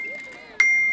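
A bright notification bell rings once with a sharp ding and a sustained ringing tail, following faint tonal sounds.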